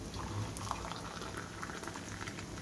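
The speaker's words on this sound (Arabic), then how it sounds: "هننزل عليه المية السخنة كده" Hot water pours steadily over koshari ingredients in a home kitchen, a continuous bubbling, splashing rush that stays loud and close throughout without any talking.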